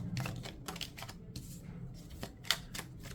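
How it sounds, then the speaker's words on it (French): Tarot cards laid out one after another into a nine-card spread, producing a run of light, crisp slaps and flicks with brief gaps, close and fairly quiet. "Je vais faire un tableau de 9 cartes."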